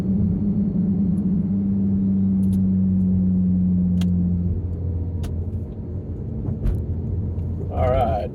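A Porsche 997.2 with its exhaust valves closed drones with a low, steady growl while driving, easing off partway through, and a voice talks briefly near the end.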